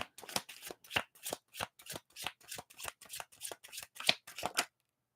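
A deck of tarot cards is shuffled in a quick rhythmic series of about fifteen crisp riffling bursts, close and clear, ending in silence.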